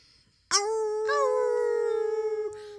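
A long wavering coyote howl rises sharply and holds a steady tone, with a second howl overlapping partway through, both sustained and clear with no talk.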